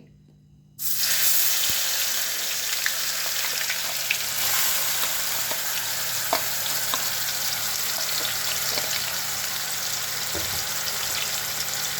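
Chopped onion, tomato and cumin hit hot oil for a dhaba-style palak paneer, starting with a sudden burst and then settling into a loud, continuous sizzle scattered with small pops, without talk.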